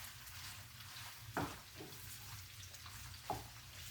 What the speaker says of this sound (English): so now we're just going to stir those sausage and peppers and onions together